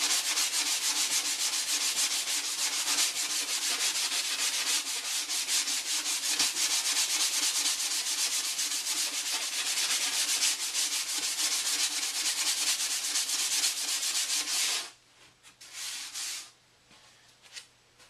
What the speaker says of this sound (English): sand all the surfaces that you put wood filler on